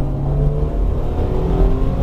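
A Japanese-market Mitsubishi Pajero engine pulls steadily under throttle, a continuous low droning hum with faint rising harmonics heard from inside the vehicle.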